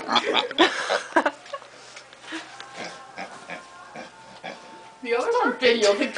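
Pigs grunt and snort in short bursts near the microphone, louder at the start and again near the end, with a person talking among the animal sounds.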